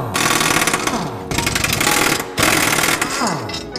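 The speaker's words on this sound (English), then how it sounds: "now I'm going to remove these four subframe bolts" Impact wrench rattling loose subframe bolts on a Subaru Impreza during a clutch job, three loud close hammering bursts separated by brief pauses, each winding down at the end.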